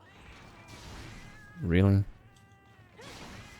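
Cats meowing in the handheld game Monster Hunter Portable 3rd: a loud drawn-out meow in the middle, with softer cat cries and game sounds before and after, and a voice briefly speaking.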